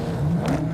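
Car arriving in a battle royale video game during a tournament match, a short burst of revving engine with rising pitch, steady and fairly close.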